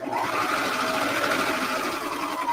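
Sewing machine running continuously close by as it stitches elastic onto pajama pants, a fast, even mechanical whir with no pauses or voices.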